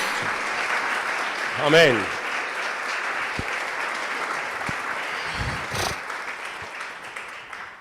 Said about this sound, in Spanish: pido un aplauso fuerte para Él en esta noche